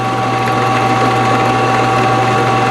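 A Vevor 12-inch benchtop drill press spins at about 1,240 RPM, giving a steady, loud motor hum with a constant whine, close and unbroken for the whole stretch, with no talking.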